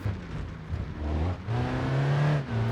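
Cherrier Tograc engine in BeamNG Drive, driving off road over terrain, a close, loud, steady engine hum rising and easing with throttle, a brief dip between pulls, no talk.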